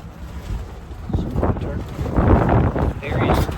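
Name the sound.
wind blowing outdoors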